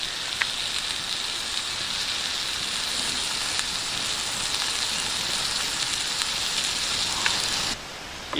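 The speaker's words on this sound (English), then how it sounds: "hearing your steak or whatever it is, you're sizzling, cooking by the campfire" Steak sizzles steadily over a campfire, a dense crackling hiss with occasional pops, close and continuous before dropping off at the end.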